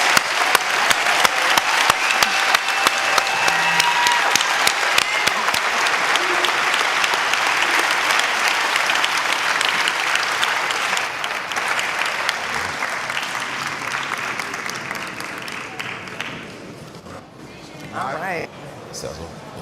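An audience at a distinguished lecture series honoring a reverend gives a sustained round of applause, loud dense clapping that slowly thins and fades out near the end, with some murmuring voices underneath.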